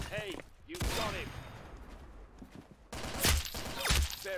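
Gunshots in the Roblox game Arsenal, a few sharp cracks near the start and a louder cluster toward the end, mixed with game sound effects and brief voice lines.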